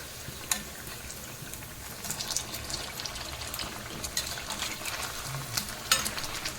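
Sabudana vada frying in oil, with a faint continuous bubbling sizzle and a few sharp clicks as the pieces are turned.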